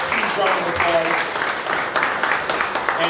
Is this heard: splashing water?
no